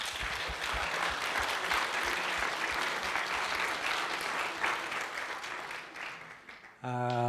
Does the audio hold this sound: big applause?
yes